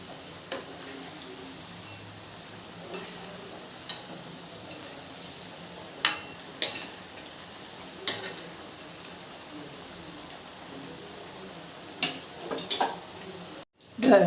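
Minapa pappu murukulu, crisp urad dal snacks, frying in hot oil on a high flame, a steady soft sizzle with occasional sharp clinks of a utensil turning them, close and fairly quiet.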